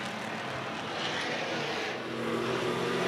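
A Jaguar E-Type and a Cobra racing on a circuit, a distant broad engine roar swelling slightly as the cars pass, faint and blurred.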